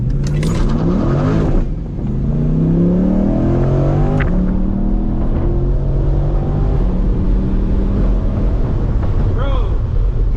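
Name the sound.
tuned C8 Corvette launch, accelerating at full throttle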